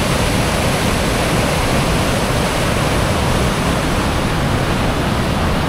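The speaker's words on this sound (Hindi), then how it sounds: "फाइनली जो है हम लोग वाटरफॉल के पास भी पहुंच ही चुके" Sukhaldari waterfall in Garhwa, Jharkhand, roars as a steady, loud, close wash of falling water that fills the whole moment without a break.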